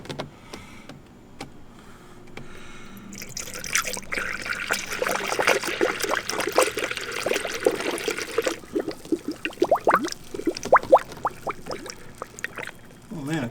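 Water drains out of a car coolant line during a repair, a trickling, splashing pour that starts after a few quiet seconds with small clicks, then breaks into irregular dribbles and drips, close and moderately quiet.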